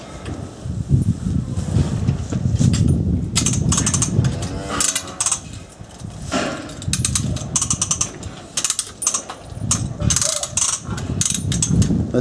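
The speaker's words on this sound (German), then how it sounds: "Deshalb hat Gerd entschieden, den sogenannten Geburtshelfer einzusetzen." A ratcheting calf puller used during a difficult cow birth, loud repeated ratchet clicks and mechanical clanks in uneven bursts close by, with rustling and barn noise around them and no talking.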